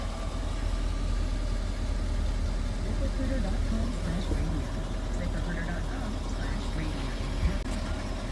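Ford Powerstroke diesel truck engine idling at about 600 RPM: a steady, low rumbling drone that holds constant throughout, close and moderately loud with no change in pitch.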